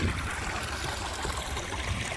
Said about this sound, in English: there's just these little miniature waterfall after waterfall